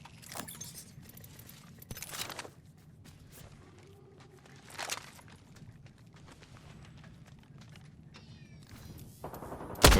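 Gunfire in the battle royale game Apex Legends, several loud bursts of shots spaced a few seconds apart over a steady low background, with a final sharp blast at the end.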